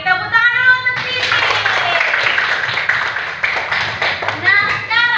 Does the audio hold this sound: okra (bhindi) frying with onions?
no